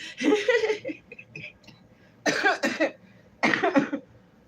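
A person coughs in three harsh bursts separated by short pauses, close up, with faint breathy sounds in between.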